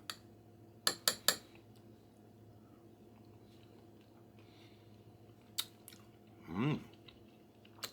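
Freeze-dried jambalaya soup eaten up close: a few sharp clinks of a utensil against the bowl, quiet stretches, then faint chewing and a short hum of appreciation near the end.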